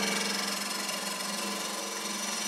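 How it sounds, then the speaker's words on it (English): Half-inch bowl gouge facing off a wood blank spinning on a lathe while turning a small flower-shaped podlet, a steady droning whir that stays even and close throughout. "I'm going to start off with facing this off. I'm going to use my 1/2 inch bowl gouge."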